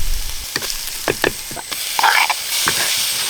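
Sliced onions fry in oil with chili powder, turmeric and salt for an egg curry, giving a close, crackling sizzle broken by several sharp scraping stirs.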